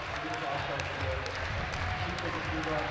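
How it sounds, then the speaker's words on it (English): A crowd in Munich cheers at a climbing competition as a climber clings to a hold, giving a steady, dense roar with scattered claps and shouts throughout, fairly distant and washy. "You could hear the Munich crowd cheering"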